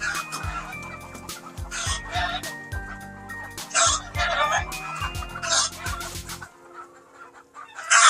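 Game fowl at a farm during breeding season cluck and squawk in repeated bursts close by, with a rooster crowing partway through, then a quieter pause before more clucking.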